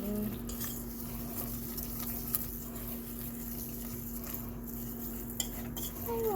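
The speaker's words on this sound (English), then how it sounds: "So we're gonna make sure we're nicely whiskering it." A lasagne mixture being whisked in a bowl, a quiet rapid scraping and patter of the whisk with a few sharper clinks against the side, over a steady background hum in a home kitchen.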